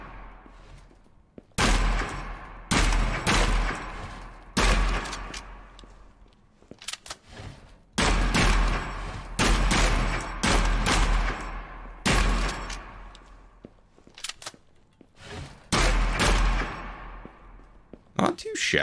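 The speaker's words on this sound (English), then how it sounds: "this thing is loud inside, which fair enough if you have ever shot a rifle indoors" A rifle fires indoors in the Gunsmith Simulator video game: loud, concussive shots in quick volleys, each ringing out with a long echoing tail, repeated many times.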